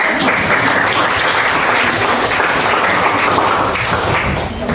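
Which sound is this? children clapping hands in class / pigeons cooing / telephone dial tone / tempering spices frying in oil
children clapping hands in class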